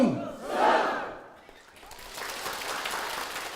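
A crowd of worshippers at the Gwanmunsa Buddhist temple's New Year's Eve ceremony shouts a Buddhist slogan in loud unison bursts, which give way to a softer, sustained crowd murmur.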